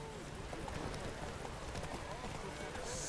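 Roach the horse gallops in The Witcher 3, a steady rapid clip-clop of hooves under a dense game soundscape, with a voice talking over it.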